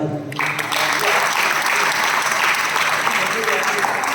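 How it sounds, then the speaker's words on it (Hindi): A seated audience at a Jain religious discourse breaks into loud, continuous applause a moment in, steady clapping that carries on to the end with voices mixed in. "ताली किसके लिए बजाइए?"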